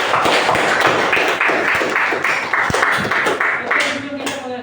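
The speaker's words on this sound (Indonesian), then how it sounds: "Tepuk tangan buat Ananda Anggun." A class of students claps for a classmate at the end of a physical fitness lesson, producing fast, fairly close rhythmic applause that holds steady and then thins out toward the end.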